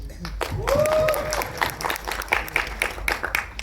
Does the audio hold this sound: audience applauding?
yes